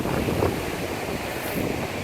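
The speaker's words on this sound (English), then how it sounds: "Very, very windy." Strong wind blows outdoors in a steady, roaring rush that buffets the microphone, with gusts swelling and easing. No voices are heard.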